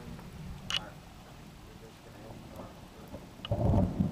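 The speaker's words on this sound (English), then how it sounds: "Why the hell thunder?" Thunder from a close cloud-to-ground lightning strike rumbles in loudly near the end over steady rain, with a voice heard briefly earlier.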